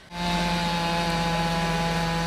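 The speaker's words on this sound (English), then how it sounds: "Using chainsaws, crews worked for hours to carve up the tree and remove the trunk." Chainsaws cut up the trunk of a huge tornado-felled ponderosa pine at a school in Scotts Valley, a loud, steady engine whine that starts abruptly and holds without pause.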